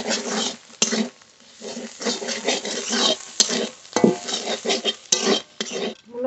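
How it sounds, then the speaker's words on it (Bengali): Radish greens frying in a pan while being stirred, with an irregular run of scraping, clattering utensil knocks and soft sizzle bursts close by. "শাক এবার ভালো করে ভেজে নেব।"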